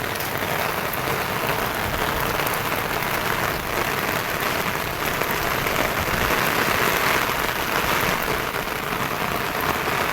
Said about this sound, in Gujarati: બહુ વરસાદ પડે